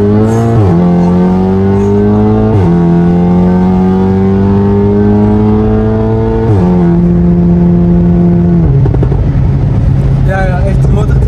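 A VW Golf 7R stage 3 tuned to 528 hp in sport mode revs loudly up close, its engine climbing through steady gear shifts in a droning whine, followed by crackles from the exhaust.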